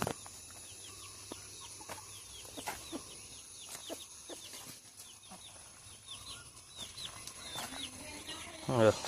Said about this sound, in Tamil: இந்த பூதி கோழியும் இங்கிட்டு வந்துடுச்சு.